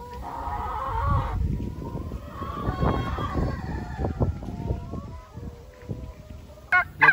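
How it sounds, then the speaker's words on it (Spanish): Turkeys on a farm give a brief gobbling burst, then a scatter of clucks, honks and other fowl calls close by, with faint shuffling and a sharp noise at the end. "Les voy a mostrar aquí los chumpipes, los pavos."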